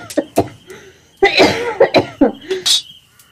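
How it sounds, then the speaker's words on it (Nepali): A woman coughs hard, again and again, in a Nepali radio drama segment on an FM news programme. The rough, hacking bursts come close and loud in uneven clusters, with some throat clearing. "यस्तो हान्दै चुडेला जस्तो हुन्छ खोक्दा"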